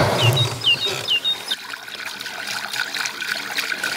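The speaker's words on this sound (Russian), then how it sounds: "Современные иноки отыскали рукотворное подземное русло ручья, которое сделали их предшественники." Water trickles through a man-made underground stream channel, a soft steady babble and dribble with a few faint high chirps early on, fairly quiet and close.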